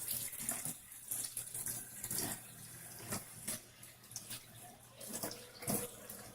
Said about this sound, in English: I'm filling it up again to rinse the clothes.